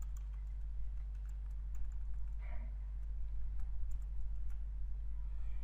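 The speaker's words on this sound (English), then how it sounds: "after the Canada I'm just typing China" Fingers type on a computer keyboard in soft, irregular bursts of clicks, faint over a steady low electrical hum.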